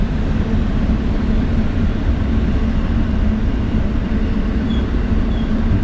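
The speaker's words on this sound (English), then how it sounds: "for right now, I'm really liking the train" A train rolls past on the far side of an icy river in Appalachia, a steady loud low rumble and rushing roar that holds evenly throughout with no voices.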